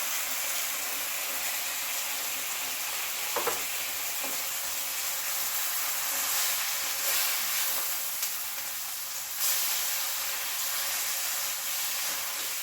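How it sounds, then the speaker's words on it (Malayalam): Tomato frying in hot oil in a pan while cooking tuna, a continuous close hiss and sizzle with a couple of brief soft stirring knocks, no voices. "ഈ എണ്ണയ്ക്കകത്ത് കിടന്ന് വെന്തിട്ട് എണ്ണ തെളിഞ്ഞ് വേണം"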